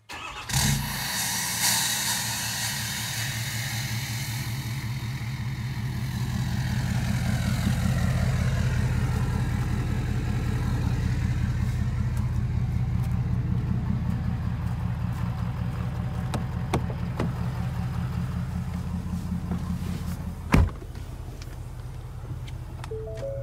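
A pickup truck towing a trailer loaded with a Ford Ranger gives a steady, continuous engine and road drone that swells slightly and holds, with a brief thump near the end and no talking.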